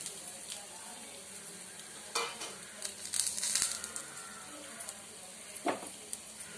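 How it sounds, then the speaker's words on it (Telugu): Ginger sizzles in a pan with urad dal for a tiffin-style ginger chutney, a steady faint frying hiss broken by a few scrapes and clinks of a spoon stirring, with no talk. "అల్లం వేసుకొని అల్లం కూడా కొంచెంసేపు వేయించుకోవాలి."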